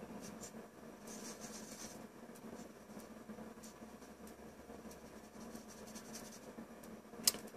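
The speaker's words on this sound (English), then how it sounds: "So I'll just draw it in really quickly." A pencil sketching a head profile on paper, with quiet, close scratchy strokes coming in short bursts and a small tap near the end.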